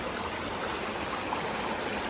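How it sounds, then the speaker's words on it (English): A shallow stream runs across an Appalachian Trail crossing in Shenandoah National Park, giving a steady, even rush of flowing water that stays close and unbroken throughout, with no voices. "Pretty little water crossing."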